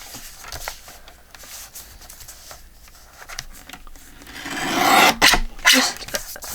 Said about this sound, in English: And then I want to trim this other end.